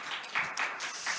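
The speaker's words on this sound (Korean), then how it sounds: "큰 박수 부탁드리겠습니다" Faint, distant applause from a seminar audience at an academic policy event on digital government, a soft continuous patter of hands lasting only a moment.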